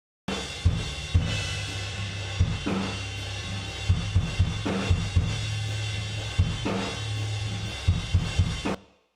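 A drum kit captured through ambient microphones in a reverberant room plays a steady groove for about nine seconds, with repeated hits washing into a dense, echoing room sound. No one speaks.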